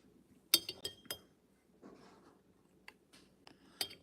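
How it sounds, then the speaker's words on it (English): A metal spoon clinks lightly against a non-stick pan while mason jar meals are prepared, with several sharp, fairly quiet taps scattered across the moment and a soft scrape in between. "I don't like to use this spoon in a non-stick pan."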